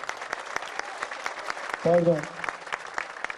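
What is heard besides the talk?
crowd applauding wrestlers at a welcome ceremony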